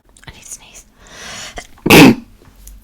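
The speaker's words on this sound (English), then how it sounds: "I need to sneeze." A single loud sneeze bursts out close to the mic, preceded by a quick inhale and faint breathing in a quiet room.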